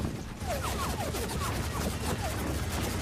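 Heavy gunfire in Gears of War 4 Horde mode: a dense, continuous barrage of shots and impacts across the whole stretch, with a few whistling sweeps over the din.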